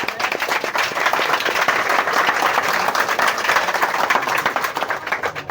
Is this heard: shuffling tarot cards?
no